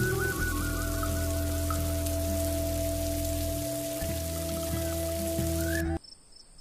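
Steady rain pours down with a dense, continuous hiss, then stops abruptly near the end, leaving quiet background with faint insect chirps.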